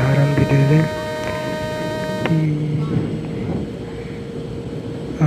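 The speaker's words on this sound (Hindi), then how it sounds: "चलो गाड़ी स्टार्ट हुए, हॉर्न भी दे दें।" Locomotive horn of the Jan Shatabdi Express as the train starts in Indian Train Simulator at Mathura: two short harmonic horn blasts, one at the start and one around two seconds, over a steady engine rumble and broadband noise.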